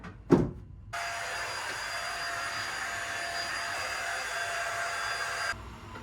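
A vacuum cleaner drones steadily through a child's bedroom during a weekly home clean, starting after a brief knock and running loud and continuous for several seconds before cutting off abruptly.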